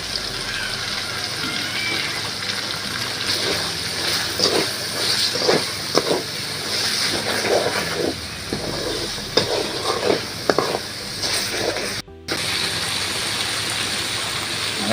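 Ground spices with salt and cumin powder sizzle steadily in a pan while being stirred for a chana dal, with a continuous hiss and intermittent scraping strokes, briefly cut off near the end before resuming.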